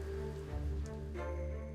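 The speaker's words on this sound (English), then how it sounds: "Yeah, there sure is a lot of rain." Rain falls steadily in AFK Journey, a soft continuous patter under a faint tonal game backdrop, quiet and brief with no speech.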